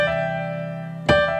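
A country-style piano chord rings out with held tones, then a fresh strike about a second in slips from C up to E over a held G, bright and close.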